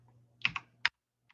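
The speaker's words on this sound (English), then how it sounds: "I'm typing it in." A computer keyboard is typed on while working a trigonometry problem about a hyperbola: a few quick, close key clicks, two or three in a cluster and one faint tap after, in an otherwise quiet room.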